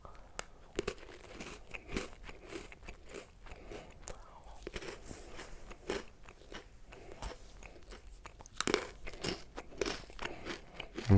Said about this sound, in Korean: 먼저 기본부터 먹어볼게요. 하나씩 먹어보고